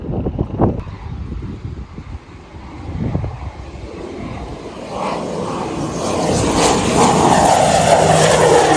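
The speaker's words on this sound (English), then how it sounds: "A lot of airplanes coming in the weekend." A propeller airplane approaching a small island airport in the Bahamas, its engine drone rising from distant to loud and near as it passes overhead, with wind buffeting the microphone.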